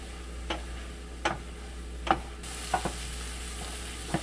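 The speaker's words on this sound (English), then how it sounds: "You hear all this sizzling?" Garlic sizzling in a pan over medium-high heat, a quiet steady frying hiss broken by several soft stirring clicks and taps spaced out irregularly, no one talking.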